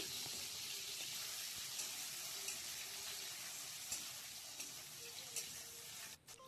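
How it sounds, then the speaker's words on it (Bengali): Potatoes fry in hot oil in a pan already used for frying fish, giving a faint, steady hissing sizzle with occasional light clinks and stirs. "আলুগুলো ভেজে নিচ্ছি"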